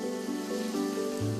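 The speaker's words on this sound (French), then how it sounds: "massage sous une fine pluie d'eau de mer" Fine seawater spray falling during a thalassotherapy spa massage, a steady soft rain-like hiss with a low tonal hum beneath, constant and close.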